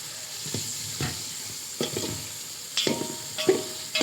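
Chicken curry sizzles and fries in a pan while a utensil stirs it in short scraping strokes every second or so, close up and fairly quiet.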